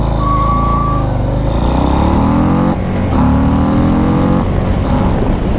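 A 2022 Harley-Davidson Low Rider S motorcycle accelerating hard from 0 to 60, its engine loud and close with rising pitch through several gear shifts, brief dips between gears.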